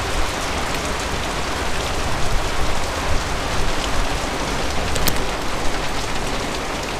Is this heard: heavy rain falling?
yes